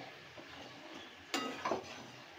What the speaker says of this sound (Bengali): খুলে খুব ভালো করে নাড়াচাড়া করে দেব।